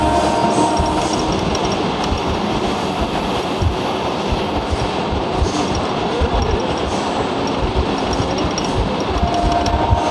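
A Mumbai local commuter train near Borivali station rumbles loudly and continuously, with rhythmic wheel clatter and rail noise dominating throughout.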